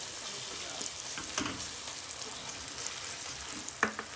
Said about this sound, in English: When you use a little bit extra oil, the onions caramelize beautifully.